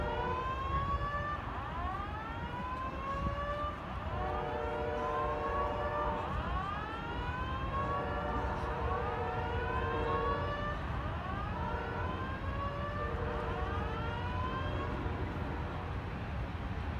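Several fire emergency sirens wail continuously in repeated rising and falling sweeps at a pet food production plant fire in Topeka, overlapping one another above a low background rumble, with no talking.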